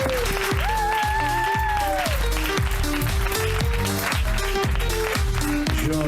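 Audience applause at a stand-up comedy show, loud and sustained, with a steady rhythmic drumbeat and a sung or sustained tone over it.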